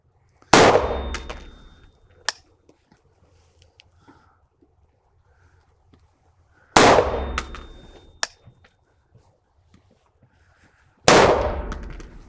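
Three sharp, loud gunshots ring out during precision shooting training, spaced several seconds apart, each with a sudden crack and a decaying tail, with a lighter metallic click after the first and quiet handling noises in between.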